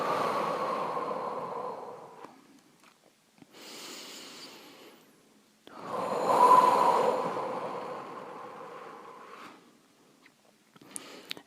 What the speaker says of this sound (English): Inhales through nose, exhales through mouth.